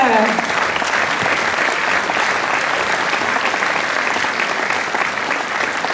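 A concert crowd at an outdoor folk music event in Koprivnica gives loud, sustained applause for a majorette troupe from Sevnica, thick continuous clapping close and even from start to finish.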